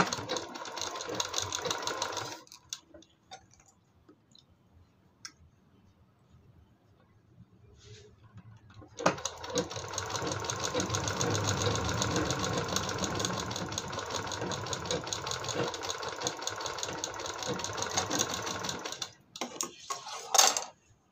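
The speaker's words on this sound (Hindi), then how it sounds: "यहाँ पे हम सिलाई को लगा देंगे" A sewing machine stitches a doubled strip of fabric for a decorative latkan tassel. It runs in a short burst, stops for several quiet seconds, then hums steadily for about ten seconds before stopping again.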